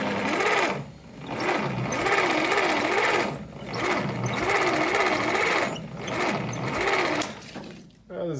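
Jeep engine cranking with the starter after a shot of starting fluid, a loud rhythmic, labouring whir in uneven bursts broken by short pauses, the engine failing to turn over properly.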